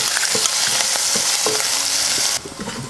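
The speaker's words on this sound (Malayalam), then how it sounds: "നമുക്ക് ഇതിലേക്ക് ചേർത്ത് കൊടുക്കാം. നമുക്ക് നന്നായിട്ടൊന്ന് മൂപ്പിച്ചെടുക്കാം." Crushed ginger, garlic, dried chillies and shallots sauté in hot oil with a loud, steady sizzle, broken by occasional stirring clicks, before the frying suddenly drops off near the end.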